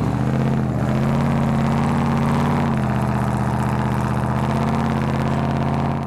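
A Jeep Grand Cherokee ZJ with a 5.2-litre, 318-cubic-inch, 220-horsepower V8 runs close up with a deep, steady idle burble, lifting slightly in pitch for a few seconds before settling back.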